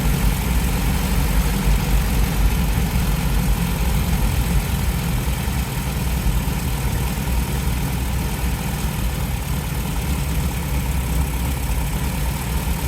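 An MGB GT engine idles steadily with a low, constant rumble and hum, loud and close, with no voices, running slightly rich during idle adjustment.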